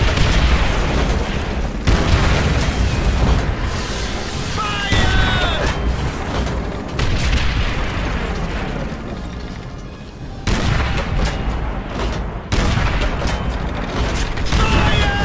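A tank cannon in a Call of Duty battle fires in repeated heavy booms, loud and close, mixed with mechanical clatter, scattered gunfire and a voice speaking briefly.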